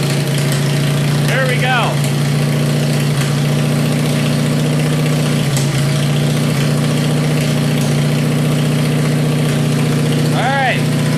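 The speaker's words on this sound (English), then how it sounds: "cold starting the worn out Kohler" A worn-out Kohler engine idles steadily just after a cold start, a loud continuous low drone running throughout, with brief speech near the start and a short whine-like sweep near the end.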